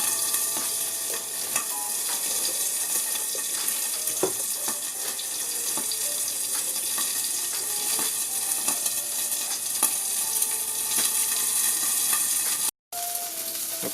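Salmon and bok choy fry in a hot pan with a constant loud sizzle and crackle, small pops scattered throughout, running unbroken apart from a brief dropout near the end.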